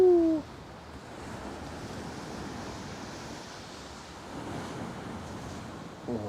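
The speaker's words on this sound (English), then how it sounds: "It's very stormy again." Steady roar of wind and crashing surf on stormy Chesil Beach, England, broadband and continuous, with a brief voice at the very start before the storm noise takes over.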